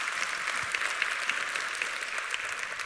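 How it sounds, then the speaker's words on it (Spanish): Applause from a church congregation during a Spanish-language sermon, a steady dense patter of many hands clapping that fills the room, moderately loud and continuous without speech over it. "podemos aplaudir a eso"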